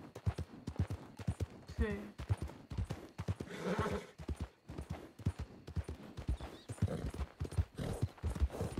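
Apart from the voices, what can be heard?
horse galloping in a video game (Red Dead roleplay)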